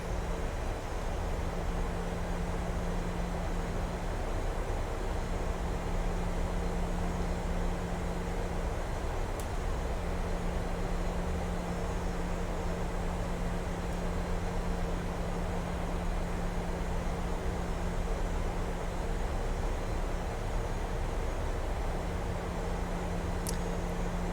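Steady low engine drone of an airliner taxiing in a flight simulator game, with a constant tone near the low end and a broad noise bed, continuous and unvarying throughout, no talk.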